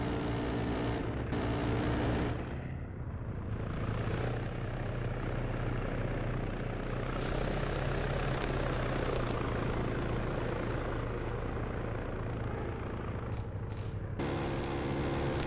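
A game helicopter's rotor drones steadily and loudly throughout, a dense chopping roar with occasional sharp cracks and brief dips as the sound shifts, no voices.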